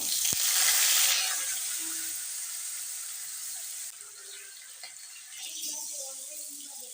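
A fish head coated in salt and turmeric fries in hot mustard oil in a kadai. It gives a steady, broad sizzle that starts loud and settles lower, with faint clinks and bubbling near the end.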